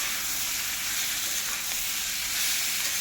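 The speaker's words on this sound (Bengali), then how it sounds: "এখন আমি চিংড়ি মাছটা দিয়ে আর একটু নাড়াচাড়া করব" Prawns stir-fried with well-braised jackfruit and potato in a pan, giving a dense, continuous hissing sizzle at steady loudness with faint stirring, and no voices.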